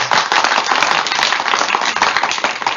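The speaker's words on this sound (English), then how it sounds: "give them that amazing LA Talk Live fake audience applause" Canned audience applause sound effect for a talk show studio, a dense, steady wash of many hands clapping at close, loud level for the whole stretch with no voices.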